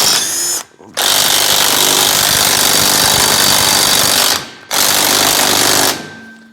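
An impact wrench with a socket hammering on a transmission bolt of a Ford Ranger, in two loud close bursts of rapid rattling impacts, the first about three and a half seconds long and the second shorter, no talking.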